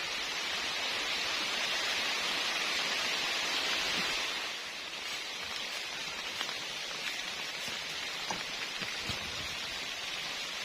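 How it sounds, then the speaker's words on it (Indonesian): Heavy rain pours steadily at a campsite during a downpour with strong wind, making a loud, continuous hiss that eases slightly partway through, with scattered drop impacts and no talk. "Hujan guys, hujan."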